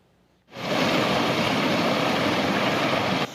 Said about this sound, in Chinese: 大量土石掺着落管煤冲落来，沿路拢发出石头烧融摩擦的声音。